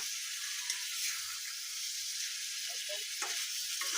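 Curry sizzling steadily in a pan as it is stirred, a soft continuous frying hiss with faint scraping, close and fairly quiet.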